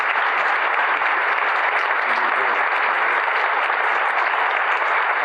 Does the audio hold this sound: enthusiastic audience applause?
yes